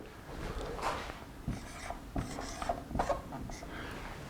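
A pen scratches across paper while pinyin is written out, giving a few soft, separate strokes and taps close by with quiet pauses between them.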